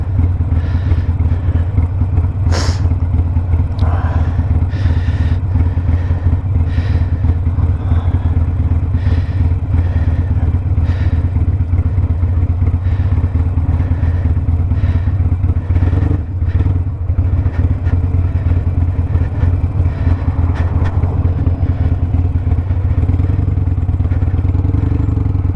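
A Harley-Davidson Iron 1200 motorcycle rides through town, its engine a steady, loud, close rumble with wind noise and occasional clatter throughout.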